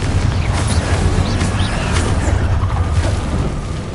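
A Confringo blasting spell explodes in Hogwarts Legacy, a loud, dense, sustained rumbling roar of blast noise that fills the whole moment without letup.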